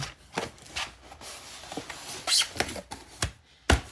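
Styrofoam packing from a large Temu delivery box is handled during unpacking, giving a string of dry, squeaky rubs and crinkly scrapes in short irregular bursts, close and fairly quiet, with a sharper crack near the end.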